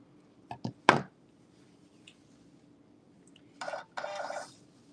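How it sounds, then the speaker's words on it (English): Big scissors cut through knit fabric: a few quick crunchy snips close by, a pause, then two longer rasping cuts, with no talking. "I'm going to cut it right now because"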